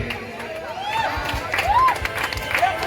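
A festival crowd at a Dahi Handi celebration in Mumbai claps and cheers after a human pyramid salute, with lively mid-distance applause, shouts, and a few whistles rising over steady background noise.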